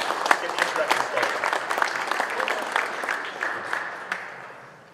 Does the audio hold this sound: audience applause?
yes